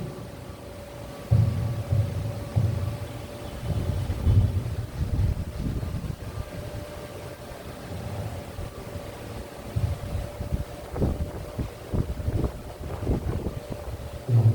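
Wind blowing outdoors into a phone microphone, a steady low rumbling buffet with gusty bursts that carries on throughout, loud and close with no clear speech over it.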